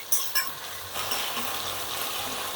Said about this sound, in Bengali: এবার এর মধ্যে সেই চাপা শুটকি গুলো দিয়ে দিচ্ছি। এটাকেও দেখুন, পেঁয়াজ রসুন এক সাইডে সরিয়ে রেখে ভেজে নিচ্ছে।